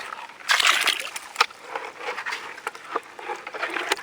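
Water sloshes and splashes in a gold pan during prospecting in central Victoria, a close, irregular rhythm of swirls and patters with no talk.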